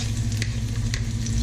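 Chili and garlic stir-frying in a hot pan for Thai basil stew-pork-leg stir-fry, a steady loud sizzle with a couple of brief scraping stirs and no talking.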